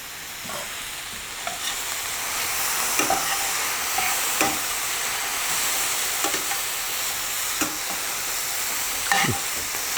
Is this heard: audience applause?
no